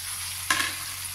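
Boiled spinach stirred in a pan over a faint steady hiss gives one short scraping stir midway, then settles back into a quiet background sizzle.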